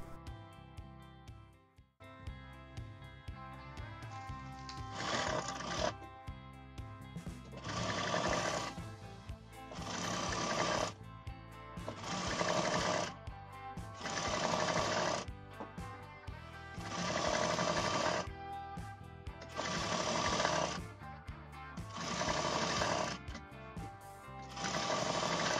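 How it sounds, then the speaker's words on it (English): Sewing machine running side-fitting seams down to the hem of a long net-fabric designer party dress, a loud motor drone in repeated bursts of roughly two seconds with short pauses between, close and without speech. "Now we do side fitting stitching till bottom."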